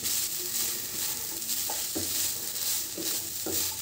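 Green chillies fry in a pan with steady broadband sizzle, punctuated by a few soft scraping stirs of a spatula; no voices, close and moderately loud throughout.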